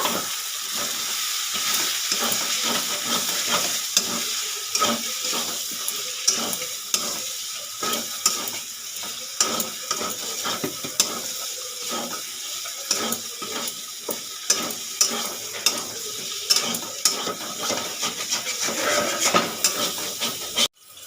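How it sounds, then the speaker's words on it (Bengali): Sugar being stirred into a sizzling pan of fish-head and gobindobhog rice murighonto, with a continuous frying hiss under repeated scraping spoon strokes against the pan. "এবারে দিয়ে দেবো অল্প পরিমাণে চিনি একটু নেড়ে নেব"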